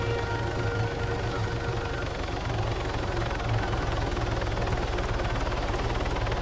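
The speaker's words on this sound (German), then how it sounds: "Ja, da ist ein Helikopter." Continuous rhythmic thumping drone of a helicopter's rotor and engine, loud and steady throughout with no pause.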